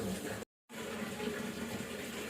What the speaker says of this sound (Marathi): तुम्हाला दाखवते मी बघा पाणी कसं आलंय आहे पाणी आलंय